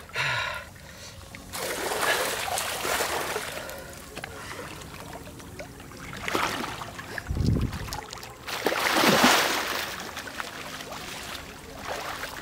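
A person jumps into a homemade salt-water pool, making a deep, heavy splash midway, with further water sloshing and churning bursts before and after, fairly close.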